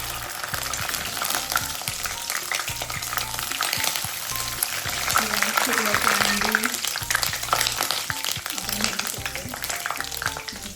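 Masala paste hits hot oil in a kadhai and sizzles loudly, a close crackling hiss over about eleven seconds. Stirring scrapes and clinks are mixed in, and the sizzle swells in the middle.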